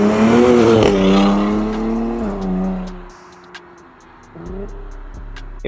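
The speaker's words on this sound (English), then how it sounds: "the exhaust note was extremely good. It was very aggressive. It wasn't quiet at all." A Nissan Z with a performance exhaust and downpipes revs loudly and aggressively, engine pitch rising and falling through a few pulls, then dropping to a quieter idle before revving again near the end.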